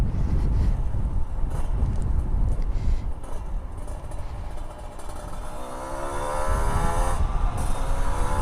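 A Kawasaki Ninja two-stroke motorcycle is ridden on the road, giving a steady loud engine drone heavily mixed with wind noise against the microphone. The pitch rises toward the end as it speeds up.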